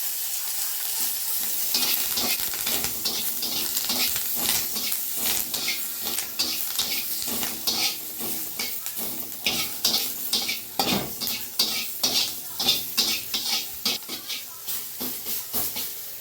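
Mustard seeds, curry leaves, salt and a green chilli frying in oil for a potato mash dish, stirred steadily in a pan with continuous close sizzling and crackling pops throughout; a brief word is spoken.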